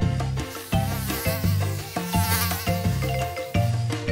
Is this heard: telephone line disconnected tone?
no